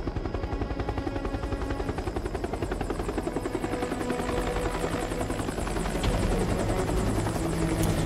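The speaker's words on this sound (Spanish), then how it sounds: "Que se iban Leon y Claire con Sherry en un helicóptero" Helicopter rotor chopping steadily throughout a scene in the video game Resident Evil Operation Raccoon City, loud and continuous with a rapid beating rhythm and no talk.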